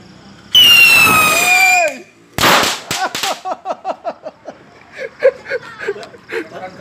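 Thunderclap firecrackers set off at a Raya celebration: a loud screeching whistle, a sudden blast, then a rapid string of sharp cracking pops that gradually thins out, heard close and very loud.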